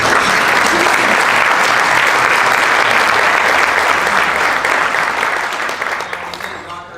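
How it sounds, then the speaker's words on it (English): Sustained applause from an audience at an awards dinner, loud and dense throughout, tapering off slightly near the end. "I'd like to ask everyone to give a round of applause to the Arkansas people for organizing such a wonderful"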